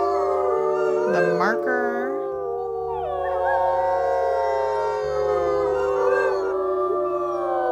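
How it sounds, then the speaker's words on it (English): Wolves in WolfQuest howl in long, overlapping wavering notes, close and loud, as a chorus held for several seconds while a person briefly speaks over it. "I think we might actually be able just to howl this hex down"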